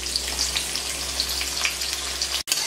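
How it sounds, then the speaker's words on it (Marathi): Chopped onions frying in hot oil with a steady, even sizzle and a scatter of small pops throughout, briefly cut off near the end. "आता हे कांदा आहे ना लाल रंगावर तेलामध्ये तळून घ्यायचा"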